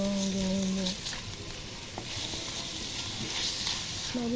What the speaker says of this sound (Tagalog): Kailangan natin mag-brown yung giniling.